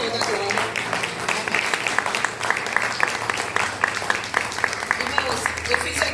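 A church congregation applauding together, dense steady clapping from many hands filling the room at moderate loudness, with voices speaking over it.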